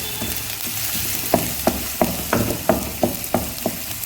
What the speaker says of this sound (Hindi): ये प्याज डाल दें, घी बहुत कम डालना है